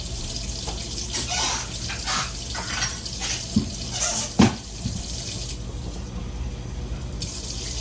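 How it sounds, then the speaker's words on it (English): Kitchen sink tap runs water into a hummus mixture, a steady splashing flow with a few sharper pours and clatters, no talking. "I'm literally just taking water from the sink and pouring this in."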